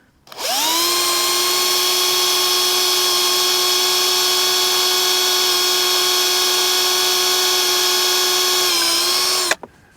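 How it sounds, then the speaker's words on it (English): A high, steady electric drill whine runs for about nine seconds while drilling a hole through a fishing rod trigger in a boat. It spins up quickly and stops sharply, close and loud, with no voices. "I've just drilled a hole in the trigger of the rod"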